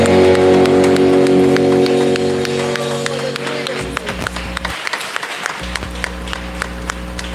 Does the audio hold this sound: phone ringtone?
no